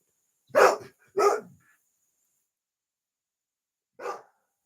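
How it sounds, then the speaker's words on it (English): A dog barks twice in quick succession, pauses for several seconds, then gives one more bark; fairly close, with quiet in between. "Dogs."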